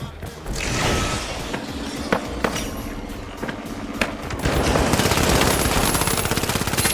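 Scattered gunshots give way to sustained rapid automatic machine-gun fire in the game The Finals, close and loud, with a faint voice underneath at times.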